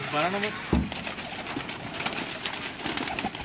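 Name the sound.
pigeons cooing on a rooftop loft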